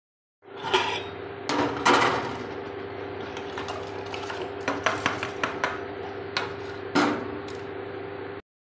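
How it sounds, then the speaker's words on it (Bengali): Rice being washed in a cooking pot in a home kitchen: scattered clanks, taps and scraping against the pot with sloshing water, several sharper knocks standing out, fairly close and without talk. "তো চালটা এবার ধুয়ে দিয়ে দিই।"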